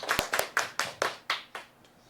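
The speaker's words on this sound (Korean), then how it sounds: "박수로 맞아 주십시오." A handful of slow, separate claps from a small lecture audience welcoming a professor, about eight crisp strikes in an uneven rhythm that thin out and stop.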